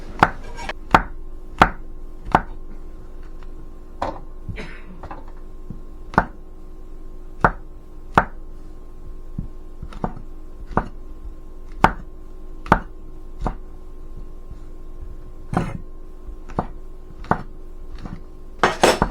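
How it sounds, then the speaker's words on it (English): A knife thinly slicing mushrooms on a cutting board, giving about twenty crisp, evenly spaced chops that ring out clearly over a quiet kitchen background. "We are going to cut up our mushrooms. Just thinly slice them into slices."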